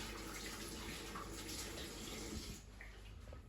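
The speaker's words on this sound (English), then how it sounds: "I'll give it a little wash off because that one's a bit dirty" Celery rinsed under a running tap in a kitchen sink, a steady splashing gush of water that drops off near the end and leaves a quieter trickle, fairly faint overall.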